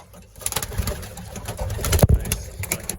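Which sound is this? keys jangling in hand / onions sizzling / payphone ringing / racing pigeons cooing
racing pigeons cooing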